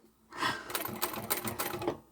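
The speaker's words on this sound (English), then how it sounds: "sew around this curved edge and come down the other side." A sewing machine stitches around the curved edge of a fabric pouch made from reclaimed fabric, a fast close mechanical whirr starting after a brief pause and running steadily for about two seconds.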